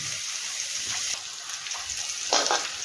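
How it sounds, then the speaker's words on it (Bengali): Water poured into a pan of frying spices with tomato and onion, a steady hiss of sizzling oil that flares into a louder bubbling burst near the end. "একটু জল দিয়ে নেব, তাহলে কি মশলাটা তাহলে পুড়ে যাবে না।"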